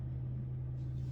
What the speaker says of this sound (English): I'm in the car and it's dark. It's 9:06, and we have been driving for a few hours now